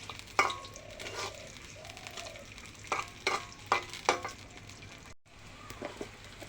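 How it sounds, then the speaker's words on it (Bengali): Onions stirred in hot oil in a wok-style pan give a soft sizzle punctuated by several sharp spatula scrapes and clacks, close and fairly quiet, with a brief gap near the end. "পেঁয়াজ দিয়ে এখন নাড়াচাড়া করে"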